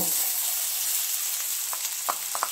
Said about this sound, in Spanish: Una vez caliente el aceite, lo que vamos a agregar es la cebolla por un lado